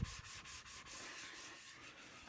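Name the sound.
razor being honed on an old sharpening stone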